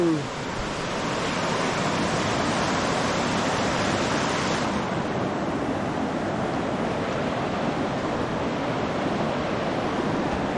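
A large river, the Bumakaa, flows with a loud, unbroken rushing roar that stays even from start to finish, heard close by.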